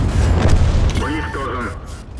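A deep, heavy tank cannon boom from World of Tanks, fired by a Black Prince tank, rolls out, then fades under brief game sounds and a voice.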